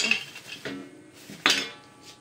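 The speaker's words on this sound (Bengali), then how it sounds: "সব ছুরি কাছি দা নিয়ে যাচ্ছে" Metal knives, scissors and machetes clatter as they are gathered up, a few sharp clinks and scrapes in separate bursts, the last one the loudest, close by with no talking.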